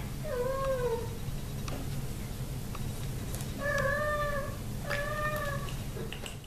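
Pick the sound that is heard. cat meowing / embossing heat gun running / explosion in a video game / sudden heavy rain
cat meowing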